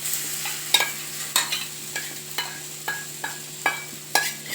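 Mixed vegetables, oats and an egg frying in hot oil in a pan, a steady sizzle broken by regular scraping stirs about every half second, close and clear, with no talking.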